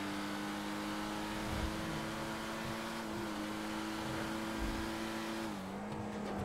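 A car engine drones from inside the cabin while driving fast, a steady hum that rises slightly and then drops near the end, moderately quiet with no voices.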